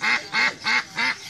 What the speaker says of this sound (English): There's a duck here.